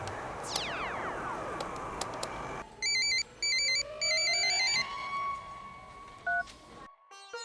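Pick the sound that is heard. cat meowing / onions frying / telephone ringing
telephone ringing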